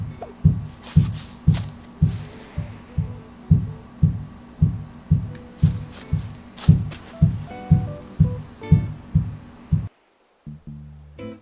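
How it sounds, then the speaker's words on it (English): A child knocks his head against a wall again and again, producing dull, heavy thuds nearby at a steady pace of roughly two per second for about ten seconds before stopping. "My kid's hitting his head up against the wall."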